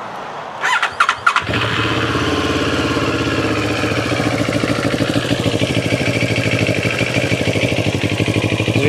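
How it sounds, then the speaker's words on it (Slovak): A 2021 CFMOTO CL700X prototype motorcycle engine cranks in a few short bursts, then fires up into a steady, loud twin-cylinder idle with a throbbing rhythm and high whine. "Na tomto prototype síce zatiaľ jazdiť nemôžeme, ale môžeme si ju aspoň naštartovať."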